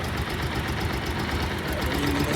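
A Bajaj Pulsar motorcycle engine runs at a steady idle after repair work, a close, continuous low throbbing with even rhythm and no talk over it.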